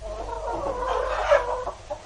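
Hens cluck as a radio drama sound effect, a brief burst of throaty, overlapping clucking heard close and fairly loud for about two seconds.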